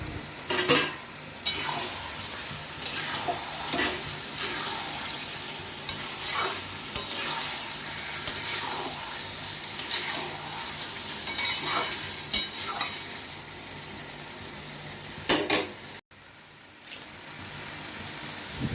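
Mutton pieces fry in a thick spice paste that has been cooked down with a little water, giving a continuous close sizzle. Regular scraping knocks from stirring run through it, with a louder clatter near the end.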